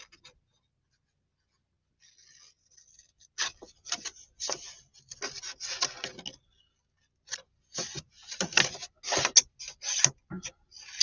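Close, crisp snipping of scissors through paper in irregular bursts of quick cuts, with a few short pauses between runs.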